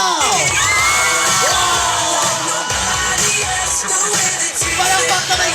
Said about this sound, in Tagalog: Palakpak na may giyaw!